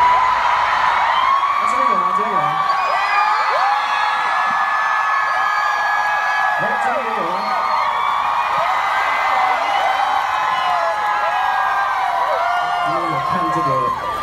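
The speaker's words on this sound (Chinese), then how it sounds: "刚刚走过来这边都有尖叫声哎" A concert crowd at a show in Kuala Lumpur screams and cheers in high overlapping voices, steady and loud throughout, with people talking nearby.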